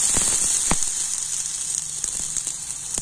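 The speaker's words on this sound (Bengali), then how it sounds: "আর এবার আমি উপর থেকে একটু জল দিয়ে দেবো।" Water splashed into a hot, oiled frying pan, producing a steady bright sizzle with sharp crackles and pops scattered across the few seconds.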